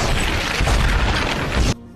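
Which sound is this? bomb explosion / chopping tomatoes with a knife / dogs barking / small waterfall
bomb explosion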